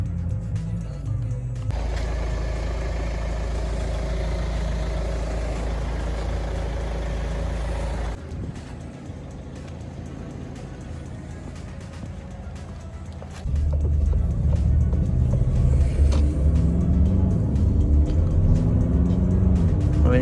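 A Renault Kadjar or Aircross crossover drives on a road, heard from inside as a loud, steady low engine and road rumble that drops quieter midway, then swells louder again.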